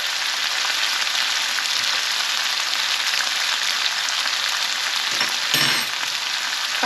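Savoury mixture of meat and spices with mace frying and crisping in a hot pan, a loud, steady, dense sizzle throughout with a brief stir or scrape near the end, no talk.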